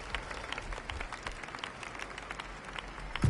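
Audience clapping in a Wuthering Waves anime episode, a faint, even patter of many hands that continues throughout and ends with a brief louder bump.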